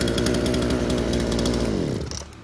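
Japanese-market used chainsaw, a G16 model, idling steadily and evenly at close range, a loud continuous engine drone that eases off slightly near the end, with no talk.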